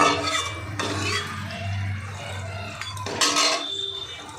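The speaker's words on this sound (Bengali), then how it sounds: "একদম সুন্দর ঝুরঝুর হয়ে ভাজা হচ্ছে" Shredded potatoes fry in oil with a soft sizzle, while a metal spoon clatters and scrapes against the pan.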